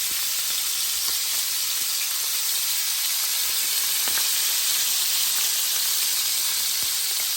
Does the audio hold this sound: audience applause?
no